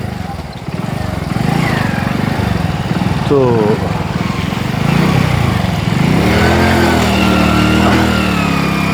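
A motorcycle runs steadily along a slippery, rain-soaked rural road on the way to Tultuli village. The engine drones loudly and keeps shifting pitch, and someone talks over it.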